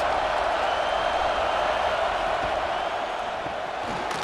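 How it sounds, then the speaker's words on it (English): A college football stadium crowd at a Georgia Bulldogs vs. Auburn Tigers game keeps up a loud, sustained roar that rallies behind the defense in the red zone, steady and dense from start to finish. "this crowd getting behind its defense"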